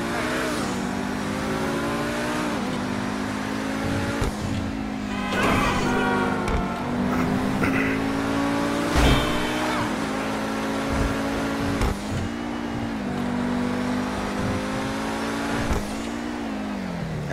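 Engine of the Penetrator supercar in GTA 5 Online, revving and accelerating through repeated gear shifts, the pitch rising and dropping in cycles, loud and close with brief tire squeals.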